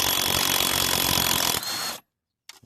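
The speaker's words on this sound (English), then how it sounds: "Here's the impact driver." Impact driver loosening a bolt on the secondary clutch of a 1975 Arctic Cat Panther snowmobile: a loud, close, continuous buzzing rattle lasting about two seconds, then silence and a brief faint clatter.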